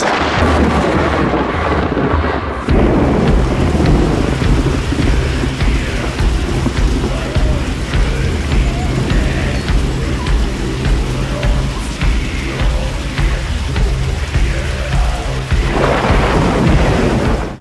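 Loud, rolling thunder rumbles on and on over steady heavy rain, filling the whole stretch with a deep, continuous roar.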